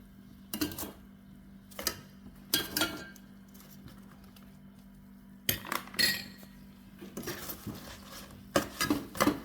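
Korean-style chicken pieces dropped back into a pan over low heat, giving scattered clinks and taps of metal in short irregular clusters, fairly quiet with pauses between.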